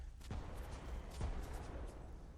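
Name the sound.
explosions from respawning enemies and traps, Remnant: From the Ashes video game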